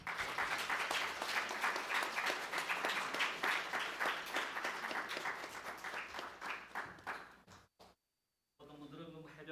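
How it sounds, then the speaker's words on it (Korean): Church congregation applauding at a Sunday worship service, a loud, dense burst of clapping that holds steady for several seconds, then thins and breaks off into a short silence before a voice begins speaking. "박수해 주시기 바랍니다."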